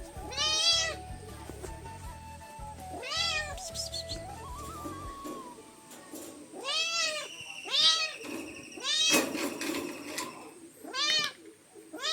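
A cat being put into a bag meows repeatedly, loud and close, in drawn-out wavering cries spaced a second or two apart, with rustling and a brief whistle-like tone early on.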